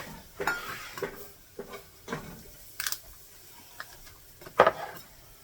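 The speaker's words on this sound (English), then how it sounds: "Now you're going to whisk in 2 cups of milk." Milk being whisked into a pan for creamy ham pasta with peas, a series of sharp metallic clinks and taps against the pan at an uneven rhythm, close and distinct with quiet gaps between.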